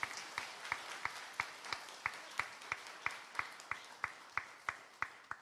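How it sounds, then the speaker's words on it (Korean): Inside a church, the congregation claps for the Sunday school teachers in slow unison, a steady rhythmic beat of evenly spaced claps, fairly faint and continuing throughout. "교회 학교 교사들을 위해 성도님들의 격려와 박수를 부탁드립니다."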